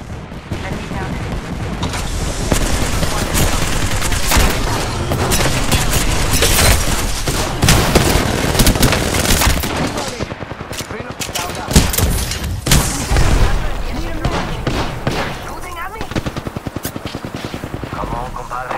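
Heavy video game firefight: dense machine-gun bursts and booming shots pile up loudly and nearly nonstop, with a helicopter-like drone and explosions underneath, while voices call out over the battle.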